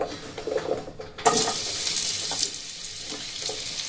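Capsicum pieces coated in cornflour hit hot oil over a high gas flame, bursting into loud, continuous sizzling and frying after a quieter opening moment.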